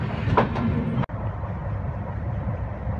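Bengaluru-Howrah Duronto Express running on rails, a steady loud rumble of wheels and carriage with a brief dropout about a third of the way through, then the continuous low roar resumes, no talking.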